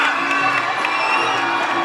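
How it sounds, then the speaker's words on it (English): A packed Muay Thai fight crowd erupts in loud, sustained cheering and whooping right after a knockout from a right high kick, a dense wall of roaring voices with no letup. "The crowd have gone absolutely ballistic."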